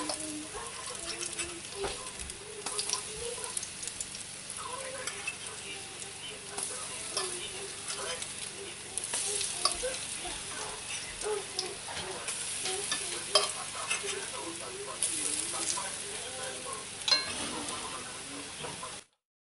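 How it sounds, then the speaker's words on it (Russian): Pancakes fry in oil over medium-low heat with a steady, gentle sizzle throughout, punctuated by occasional soft scrapes and clicks, close and continuous. "Жарим на огне ниже среднего"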